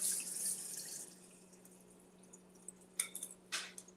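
Rice-rinsing water poured out into a kitchen sink, faint and quiet, with a low steady hum beneath, a soft trickle early on and a few short splashy pours near the end.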